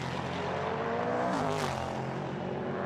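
Prototype Cup race car engines growl steadily at the Lausitzring tri-oval, a continuous droning roar at moderate distance that swells slightly as the cars pass, with no voices over it.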